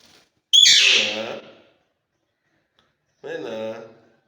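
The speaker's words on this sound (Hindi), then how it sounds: "मैना" A pet myna bird gives a loud, bright call near the start, followed after a pause by a shorter, harmonic, voice-like call.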